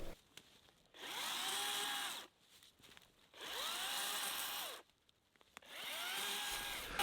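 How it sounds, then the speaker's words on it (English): A chainsaw cuts through small brush near a lake, revving in three long loud bursts with short idle pauses between them. "using my chainsaw was the most effective way of cutting down the small brush"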